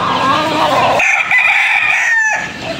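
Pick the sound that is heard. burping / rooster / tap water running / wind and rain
rooster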